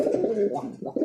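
Roller pigeons coo up close in a breeding loft, a few soft throaty rolling phrases with short pauses between them.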